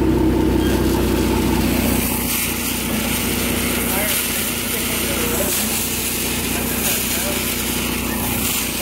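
Steady engine drone from a 3.5L EcoBoost-swapped Mustang on a dyno, its sticky tires dragging on the roller as the wheel spins, loud and continuous throughout.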